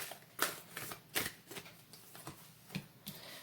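A deck of angel oracle cards is shuffled by hand close up, a run of quick papery riffles and flicks in an irregular rhythm, fairly quiet with no speech.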